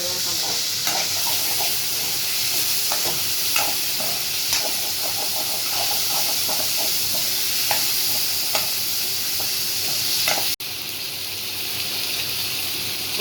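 Chicken liver sautés in a hot pan for a peppery fry, giving a steady, dense sizzle with occasional scrapes and taps of stirring throughout.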